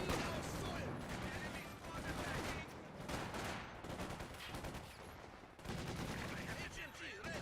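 A tank gun fires during a Company of Heroes 2 battle against a Panzer IV, amid dense overlapping gunfire, machine-gun bursts and heavy booms. The combat runs continuously, loud and busy, with a faint voice underneath.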